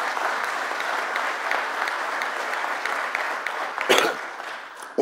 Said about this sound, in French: je pense que ça mérite encore quelques applaudissements